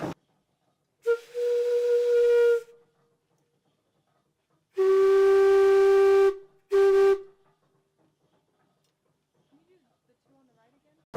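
A logging steam donkey's steam whistle blows three times, a short blast, a long one, then a brief one, each piercing and tonal with quiet gaps between.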